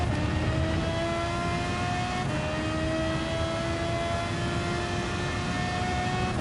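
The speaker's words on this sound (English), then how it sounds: "it definitely sounds like a twin turbo" A twin-turbo car engine in Gran Turismo 7 drones loudly and steadily under acceleration, with a brief gear shift partway through, heard from a hood camera with no talking.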